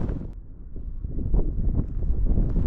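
Gusty wind buffets the microphone on a rainy hillside walk, a close, rumbling low roar that swells and fades irregularly.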